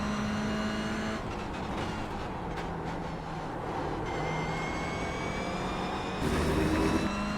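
A Toyota GR86 race car engine in the iRacing sim, a steady droning engine note held on throttle with a brief lift and a rising rev near the end.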